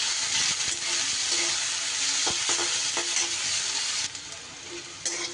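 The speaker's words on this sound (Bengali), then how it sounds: "থেতো করা রসুন আর পেঁয়াজটা বেশ বাদামি বাদামি করে আমি ভেজে নেব" Crushed garlic and finely chopped onion frying in hot oil, a steady close sizzle with intermittent scraping stirs and clinks of a spatula, no voices.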